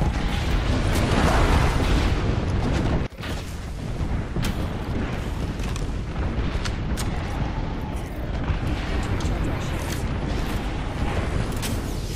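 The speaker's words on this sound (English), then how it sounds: "Airstrike." An airstrike in Apex Legends pounds the area with a continuous, heavy rumble of blasts and booms, loud and sustained throughout, with a brief dip before the barrage resumes and sharper cracks punctuating it.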